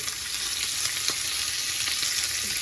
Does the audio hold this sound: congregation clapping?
no